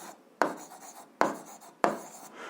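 Pen strokes on paper while working an 8th-grade algebra exercise, three distinct scratchy bursts at roughly even intervals, close and fairly quiet with no talking.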